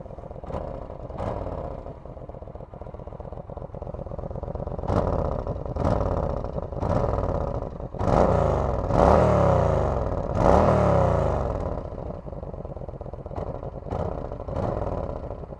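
Yamaha XVS 1300 Stryker cruiser on its stock exhaust, close by, idling with a deep thumping rumble and then revving in several repeated throttle blips that rise and fall, with a few louder surges in the middle.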